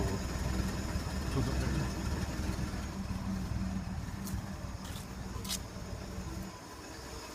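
Exhaust note of a Winnebago F-17 motorhome's engine running through a newly fitted muffler, a steady low idling rumble throughout with a brief voice under it.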